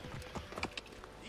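Horse hooves galloping in the Assassin's Creed Origins video game, a quick irregular clip-clop of hoof strikes over a low background bed, moderately close and fairly quiet.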